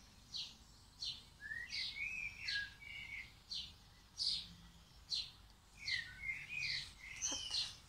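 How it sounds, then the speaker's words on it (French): Birds sing outdoors in a steady series of short, bright chirps and whistled phrases, repeating roughly every half second to second at moderate distance, with no talking. "Tout ça avec le petit chant des oiseaux."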